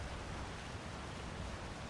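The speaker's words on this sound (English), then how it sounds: "More loud waterfalls." Loud waterfall in Elder Scrolls Online, a steady dense rushing roar of falling water that holds evenly throughout with no other sounds over it.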